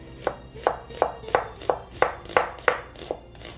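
Knife chopping an onion on a cutting board, about nine crisp, evenly spaced chops in a steady rhythm, close and clear with no talk.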